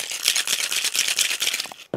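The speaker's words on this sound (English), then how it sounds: "Ice our tin and shake." Ice rattles hard inside a cocktail tin shaken for a Loch Lomond cocktail made with Drambuie, Cointreau and lemon juice, a steady loud rapid rhythm for about two seconds that stops abruptly, with a final clack.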